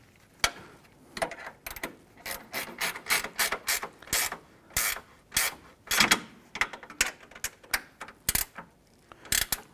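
A ratchet tightens an engine mount bolt on a 2012-2017 Toyota Camry, producing a quiet, close series of rapid clicking pawl bursts in uneven strokes, speeding up toward the end.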